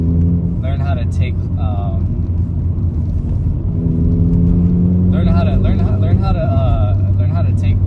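Honda Civic EK engine driven hard on a mountain road, a loud steady droning rumble with rising harmonic revs, heard from inside the car under continuous speech.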